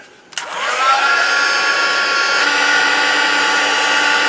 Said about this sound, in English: what I'm going to do is get my heat gun warm, and then just as you do, I'm just going to emboss it.